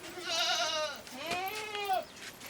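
A goat bleats twice close by, two wavering, drawn-out calls in quick succession, with no talk over them.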